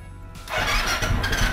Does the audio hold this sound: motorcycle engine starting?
yes